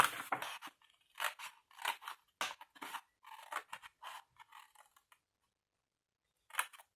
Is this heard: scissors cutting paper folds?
yes